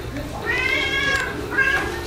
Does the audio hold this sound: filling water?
no